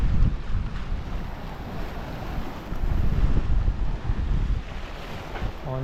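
Wind of about 11 to 14 knots rushes across the deck of a sailboat crossing the open ocean, a loud, rumbling buffet with surging gusts and wash of waves, no voices.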